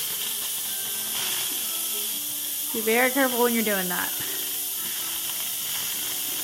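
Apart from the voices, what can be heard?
Instant Pot pressure release venting steam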